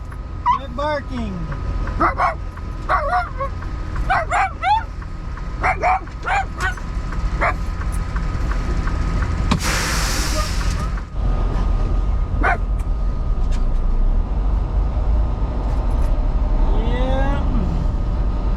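Frankie the dog barks repeatedly inside a truck cab, bursts of sharp barks and yips over a constant engine drone, with a brief loud noise midway and people talking at times.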